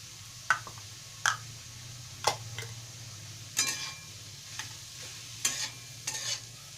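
Mashed potato for pav bhaji is stirred and sautéed on a tawa, with about seven distinct spatula scrapes at a loose, regular pace over a quiet, low sizzle.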